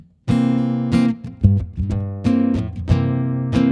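A guitar strums a bluesy seventh chord, struck several times in a loose rhythm, each strum ringing out clearly and fairly loud with no voices.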